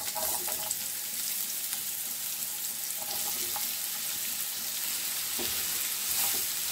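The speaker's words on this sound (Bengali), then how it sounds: "2 মিনিট ভাজিয়া নিমু পেঁয়াজ তেলের মধ্যে" Chopped onions fry in a little cooking oil with a steady, fine sizzle and occasional soft stirring clicks, close and moderately quiet, with no talking.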